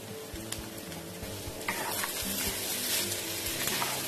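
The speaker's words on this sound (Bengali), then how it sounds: "মাছটা আমি খুব ভালো করে কষে নেব।" Fish sizzling and frying in a pan with grated potato and pepper powder, a steady close crackle that grows busier halfway through, with occasional scrapes and clicks of stirring.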